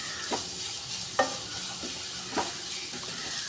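Onions and green chillies fry in a pan for a Kerala toddy-shop style beef fry, a constant soft sizzle broken by three quick spatula scrapes, close and quiet with no voices.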